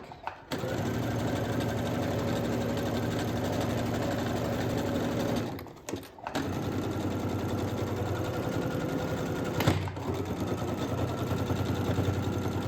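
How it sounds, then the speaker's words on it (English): A sewing machine stitches fabric for a sunglass case in a steady, rapid mechanical hum, stopping briefly twice around the corner turns, close and continuous. "I'm stopping with the needle in and then picking up the presser foot and turning my fabric."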